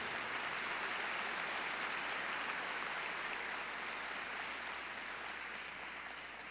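Church congregation applauding for two preachers serving in Argentina, a soft, even wash of distant clapping that holds steady and fades slightly toward the end.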